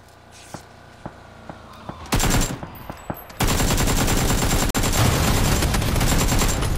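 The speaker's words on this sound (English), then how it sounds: "we're getting shot at" Sustained automatic gunfire in an airsoft or game skirmish, scattered single shots at first, then a dense, continuous loud burst of rapid fire lasting several seconds with a brief break.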